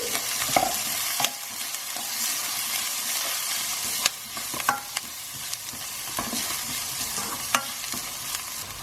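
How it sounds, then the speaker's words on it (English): Turmeric, cumin and coriander are stirred through hot oil in a frying pan for an eggplant curry, a steady sizzle broken by repeated sharp scraping strokes of the spoon against the pan. "Starting with some turmeric, cumin and coriander. We're going to give that a little mix through."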